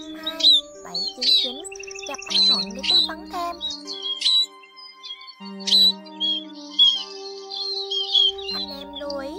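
Recorded song of the chim ri đá used as a trapping lure: repeated sharp chirps, whistled calls and squawky notes in a busy, overlapping sequence, with someone talking briefly over it.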